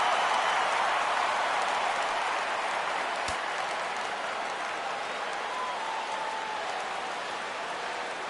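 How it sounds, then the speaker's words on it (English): A baseball video game crowd, Yankees at Astros, rises into a broad, steady roar for a full-count pitch, a wash of cheering that holds loud throughout and eases only slightly toward the end. "Crowd gets up for the 3-2."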